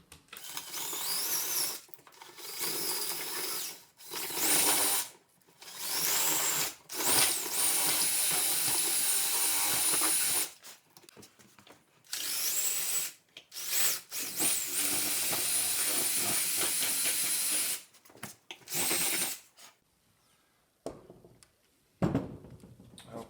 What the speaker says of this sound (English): So now this is where this drill comes in.